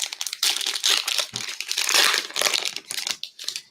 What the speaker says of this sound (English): Straighten up some of these cards.